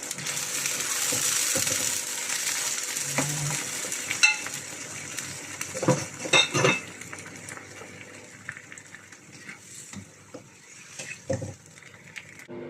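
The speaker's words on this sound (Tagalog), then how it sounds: "halo natin yung bitsuelas na pinalambot" Softened green beans stirred in a cooking pan with chicken, giving scattered scraping and clinking utensil sounds over a faint sizzle, moderately quiet and irregular, with no talk.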